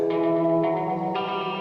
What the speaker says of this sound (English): Added some delay